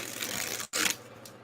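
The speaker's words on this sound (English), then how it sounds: "So yeah, I'm just shuffling" Insight Tarot cards are shuffled, giving a close, soft riffling rasp that breaks off for an instant and then resumes, with no talking.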